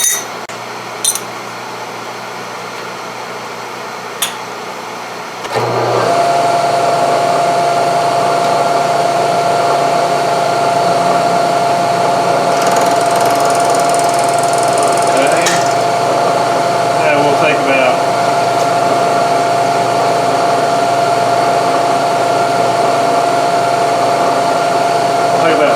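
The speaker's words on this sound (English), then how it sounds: "next we're going to turn it up this way and start milling some flats on it" A milling machine cuts flats on a branding iron, a steady loud mechanical whine and hum running continuously after a few faint clicks at the start.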